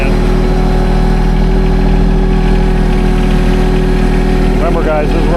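A tractor engine idles loud and steady at close range with a box scraper attached, its deep constant rumble filling the whole stretch while grading a high spot of ground.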